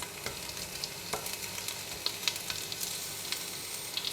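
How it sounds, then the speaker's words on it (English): Crushed garlic and sliced galangal sizzle in hot cooking oil in a pot, a steady crackling fry with scattered sharp pops and light stirring, close and moderately loud, with no talking. "When the cooking oil is hot, add in half of the crushed garlic, half of galangal slice"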